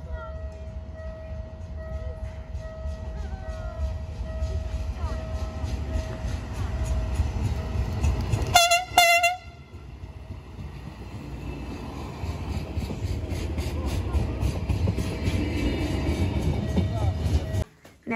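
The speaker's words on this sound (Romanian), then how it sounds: "haideți să vă arătăm trenul care trece prin Miercurea Sibiului" A train runs through Miercurea Sibiului with a steady low rumble and tonal squeal. Midway it gives a sharp, brief clatter, then keeps rolling at moderate distance until it cuts off near the end.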